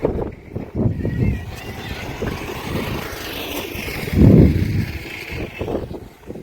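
Gusty wind buffets the microphone in uneven, rumbling bursts on a dam near Malakonda hill in Andhra Pradesh, with a heavier roaring gust near the middle.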